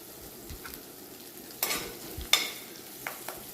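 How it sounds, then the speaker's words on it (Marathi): Green chili thecha fries in a pan, giving a soft, constant sizzle broken by several sharp spatula scrapes and stirring clinks. "गॅसची फ्लेम करून हिरवी मिरचीचा ठेचा 1 मिनिटभर परतून घ्यायचा"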